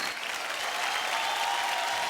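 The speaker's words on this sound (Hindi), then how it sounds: "एक बार जोर से तालियां" Studio audience applause on an educational television quiz show for young school pupils, a steady, dense wash of many hands clapping at once, even in level throughout with no voices.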